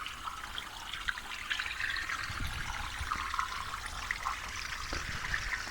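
Steady, gentle splashing of a small garden pond waterfall falling into the pond, a continuous soft trickle with no voices.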